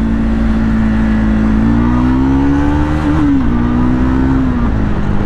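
A Triumph 400 motorcycle engine accelerates hard during a speed run, a loud steady drone rising in pitch with a brief dip near the middle as it shifts, heard close and alone.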